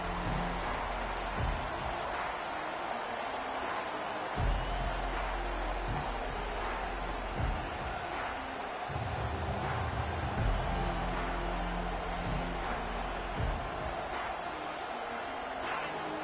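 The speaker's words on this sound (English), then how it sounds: "this crowd is fired up. Listen to this noise here." Distant college football stadium crowd roaring steadily after a kickoff, a broad continuous wash of cheering with occasional louder swells and thumps.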